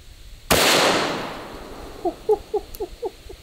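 A single loud, close gunshot from a large-caliber handgun such as a Desert Eagle .50 AE or .500 Magnum, with a sharp blast and a long decaying echo, followed by several faint chirping sounds.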